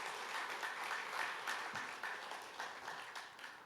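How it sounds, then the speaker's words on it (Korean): Church congregation clapping steadily at a young adults' service, a faint, even patter of many hands heard from a distance for a few seconds. "우리 한번 박수 한번 하죠"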